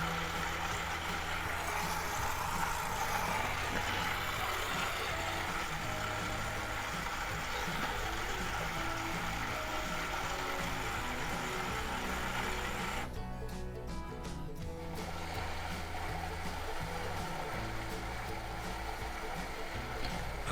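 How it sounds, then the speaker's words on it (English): A Whirlpool WFW75H front load washer, running in diagnosis mode, fills with water through its cold valve into the fabric softener dispenser. A continuous low hum and hiss of flowing water holds steady, with a brief dip partway through. "C3 is the second cold valve that will go through the fabric softener dispenser for 40 seconds"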